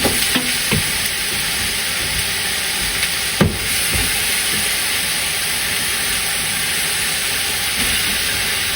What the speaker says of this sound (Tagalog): Tapos nito ay igisa natin ang ibang ingredients.